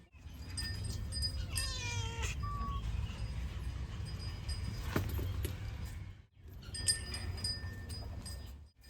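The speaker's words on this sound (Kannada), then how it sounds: "ಬೆಕ್ಕು" A domestic cat gives a drawn-out, rising-and-falling meow near the start, followed by a shorter cry later, over steady low background noise.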